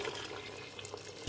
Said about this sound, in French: Mettre d'eau chaude.